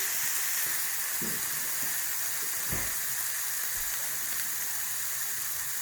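Onions cooking in a pan at a brewery brunch, giving a steady, soft sizzling hiss throughout with a few faint low knocks, no voices.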